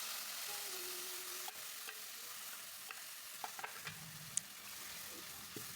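Ground chili and garlic paste sizzles in 100 ml of hot oil for a sambal, a steady frying hiss broken by a few sharp pops and stirring clinks, close and alone.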